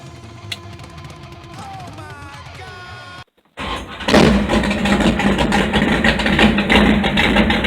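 Straight-piped 1968 Plymouth Satellite with a 5.9 Magnum V8 cranks briefly, then catches after a short gap and roars into a loud, steady, rumbling cold-start idle, close up and alone.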